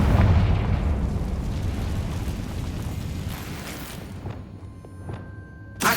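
In Hogwarts Legacy, a Confringo fire spell bursts with a loud rumbling explosion that fades into a long crackling tail, followed by a few lighter pops and thuds.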